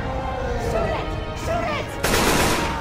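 Video game gunfire in Left 4 Dead 2 as players shoot at a Tank, a loud burst of shots rising near the end amid game noise and cluttered sound, with a few voices mixed in.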